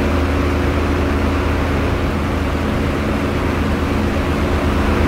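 Damaged warplane engine in the DCS World flight sim, a steady low propeller drone that sounds weak and strained, droning continuously and fairly loud with no voices over it.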